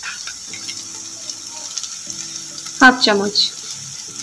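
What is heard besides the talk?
spices (coriander, chili, garam masala) frying with tomato in pan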